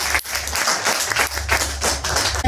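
A hall crowd gathered for a commando training talk claps loudly, dense overlapping hand claps running steadily with brief dips.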